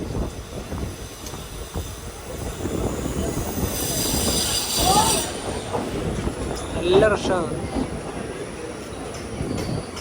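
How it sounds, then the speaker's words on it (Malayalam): Mangaluru–Chennai mail train pulling into Kasaragod railway station, a steady rumble of rolling wagons with brief wheel squeals, under the murmur of a busy platform and someone speaking nearby. "കാസർഗോഡ് റെയിൽവേ സ്റ്റേഷനിലേക്ക് ഇതാ നമ്മുടെ ട്രെയിൻ എത്തിക്കൊണ്ടിരിക്കുകയാണ്."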